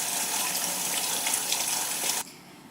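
Tap water runs steadily over rice being rinsed, a broad hissing gush close up that cuts off abruptly near the end, leaving a faint residual trickle.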